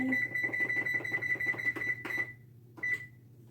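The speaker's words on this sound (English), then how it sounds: "turn the oven on" An oven's control panel beeps as it is switched on to preheat, a rapid run of electronic tones followed by two separate longer beeps, close and clear over a low background hum.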